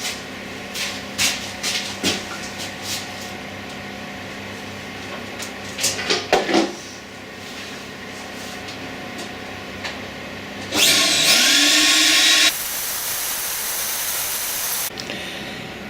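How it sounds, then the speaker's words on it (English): An ash goblet turns on a woodworking lathe with scattered knocks and scrapes, then dust extraction starts with a loud, steady roaring hiss that drops in level and keeps running, close by. "So what I'm going to do now is fire up the dust extraction and"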